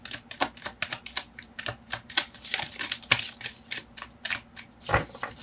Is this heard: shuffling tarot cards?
yes